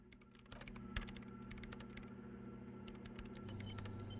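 Keys clatter in quick irregular bursts on a computer keyboard in the video game Disco Elysium, a steady low hum running beneath the close, crisp tapping.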